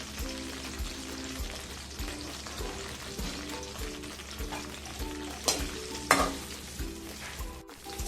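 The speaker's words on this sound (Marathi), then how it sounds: "आणि फ्लावर टाकत आहे थोडं थोडंसं साधारणपणे फ्राय करून घ्यायचं आहे" Cauliflower florets frying in hot oil for a Kolhapuri vegetable curry, a steady crackling sizzle with soft rhythmic ticking and a couple of louder pops near the end, heard close with no talking.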